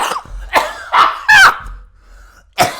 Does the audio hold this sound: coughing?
yes